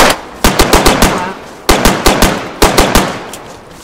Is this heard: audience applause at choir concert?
no